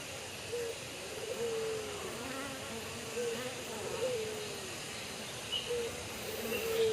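Honeybees in a queenless hive, a dense, steady buzzing drone heard up close, with faint warbling tones drifting through it.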